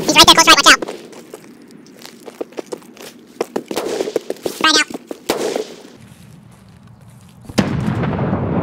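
A frag grenade bursts in a wooded online shooter firefight, a loud close blast with a rumbling tail amid scattered gunshots and pops, while players talk over voice chat.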